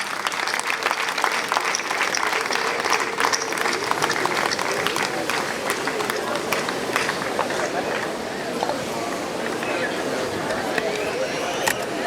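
An audience clapping steadily at a gathering, dense sustained applause from many hands filling the room, with voices faintly mixed in beneath the clapping.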